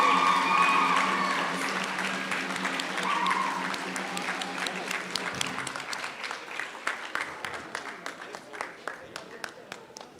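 Audience applause at a school's annual awards afternoon after a student is named, dense clapping at first that gradually thins into scattered individual claps, with faint murmuring underneath.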